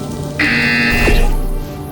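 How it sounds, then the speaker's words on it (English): A buzzer sounds in the Portal Stories VR video game, one sustained electronic tone lasting under a second over a steady background hum, then cutting off with a short sweep. "You will hear a buzzer."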